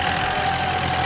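Little red tractor in a cartoon running slowly, a steady low engine chug with a faint constant whine, loud and unbroken, no voices over it.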